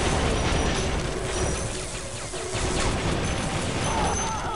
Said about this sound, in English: That might be a good time to use the stupid riot gun.